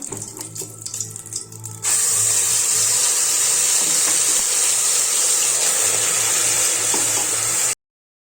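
Masala for egg sambar hits hot oil in a pressure cooker and bursts into a loud, steady hiss that holds until it cuts off abruptly, after quieter clinking before.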